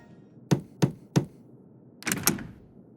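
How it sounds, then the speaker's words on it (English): Three evenly spaced, sharp knocks on a wooden door in the video game Trails Through Daybreak, loud and close, followed by a brighter clattering knock-like burst, with no talking over them. "maybe I should knock before I shout."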